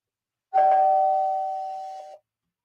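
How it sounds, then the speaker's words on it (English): A doorbell chimes once at home, a bright sustained two-tone ding that rings out for about a second and a half and fades, loud and close, with no talking over it. "I got to get the doorbell"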